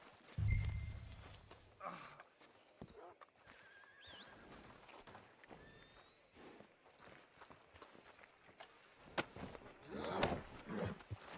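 A horse in Red Dead Redemption 2 whinnies and snorts amid hoof clops and scattered footsteps, with busy background noise and occasional sharper knocks.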